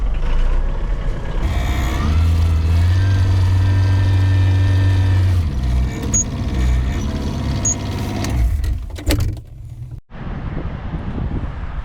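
A Mitsubishi MT226 cabbed tractor with a four-cylinder engine pulls away with its tiller raised, a loud steady diesel drone with whining tones, short high beeps and wind buffeting, cutting abruptly near the end.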